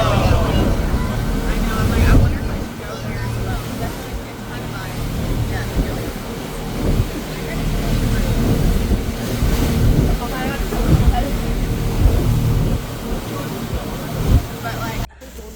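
A boat crosses rough open sea to Nusa Penida, pounding through big waves with water splashing aboard, its engine rumbling low beneath steady wind buffeting the microphone and repeated surges of surf.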